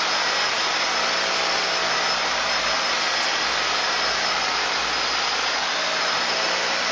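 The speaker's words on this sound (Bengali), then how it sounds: "ভালো করে গর্তটা ড্রিল মেশিন দিয়ে এরকম ঘুরিয়ে ঘুরিয়ে পরিষ্কার করে নেবো।" A power drill spins to clean out a hole bored in a wall during a Voltas split AC installation, giving a steady, loud whirring drone that holds without a break throughout.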